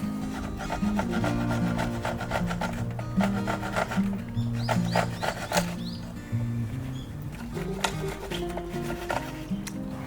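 A plastic folding flower bed part is cut for a DIY conversion of a cheap used car, heard as rapid rhythmic sawing strokes with rubbing and scraping, close and fairly loud, pausing briefly midway.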